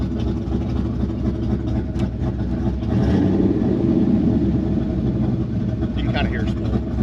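A turbocharged LT1 engine with the exhaust cutout open runs with a loud, close, rumbling drone that swells into a fuller roar for a few seconds midway before settling back, with people talking over it.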